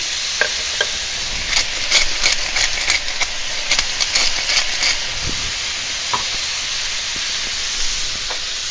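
Tuna frying in a pan gives off a steady, loud sizzle and hiss, broken by scattered crackles and a few clattering stirs or scrapes near the start.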